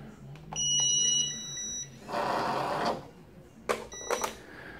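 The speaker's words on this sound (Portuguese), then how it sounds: "Ele vai bipar e vai vibrar, significa que ele está configurado." Electronic beeping tones from a PE-500 queue management pager, a sustained tone followed by a burst of broadband buzzing and a few short sharp beeps.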